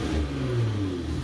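An Infiniti Q50 engine, after a power modification, revs up steadily with a rising, throbbing drone, loud and close, with no voices over it.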